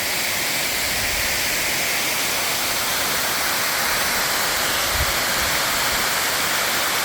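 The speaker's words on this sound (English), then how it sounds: "Wanted to show you the other side of the waterfall." A steep, rocky waterfall north of Nakusp, British Columbia, pours as a steady, dense roar heard from close by, broad and unbroken throughout with no voices.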